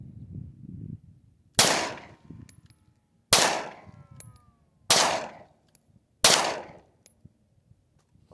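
Four sharp shots from a Taurus G2C pistol at an outdoor target, evenly spaced about a second and a half apart, each a loud crack with a short ringing decay and faint metallic after-clicks, no talk.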